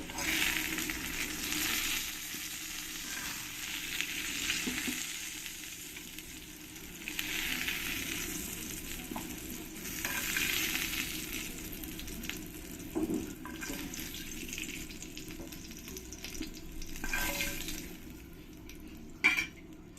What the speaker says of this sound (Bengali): আলুগুলোকে আমি একটু লাল লাল করেই ভেজে নেব